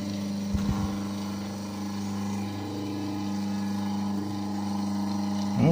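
Motor of a Korvet 76 machine running after being fitted with a new impeller fan, a steady humming drone with a brief clatter at startup, fairly close and alone.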